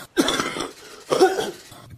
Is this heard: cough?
yes